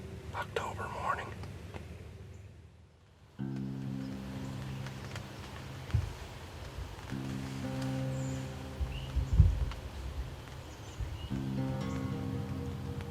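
Cold rain falls on an October morning around a hunting blind, a soft continuous patter with occasional nearby taps and rustles, while a voice whispers quietly over it.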